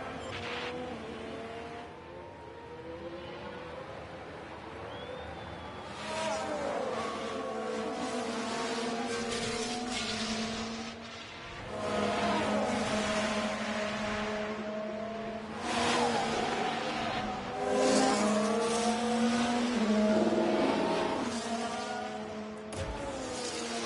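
Ferrari race cars from the F1 Manager 24 racing game sweep past in a steady, continuous engine drone that swells and fades in several loud waves, with no talking.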